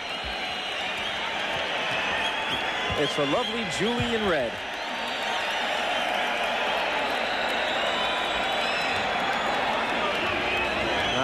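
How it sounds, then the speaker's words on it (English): Boxing arena crowd at a 1986 Mike Tyson fight roaring and applauding in a broad, sustained wash of cheering, with a commentator speaking over it. "And now the crowd roaring even more, and it's not for Tyson, it's not for Zalski"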